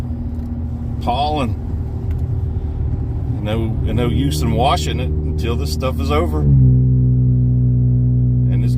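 A Camaro engine with a MagnaFlow Magnapack exhaust idles in a low, steady rumble that deepens near the end, while someone talks over it throughout.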